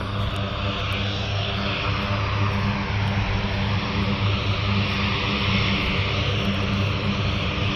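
A C-130 military transport plane takes off at Fort Bragg, its propeller engines producing a steady, loud droning roar that holds for several seconds with no talking.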